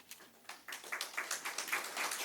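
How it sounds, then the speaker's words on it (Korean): A church congregation claps in welcome as flowers are presented during an Easter Sunday service, the quiet scattered claps building into steady, moderately distant applause. "박수로 환영해 주시면 감사하겠습니다."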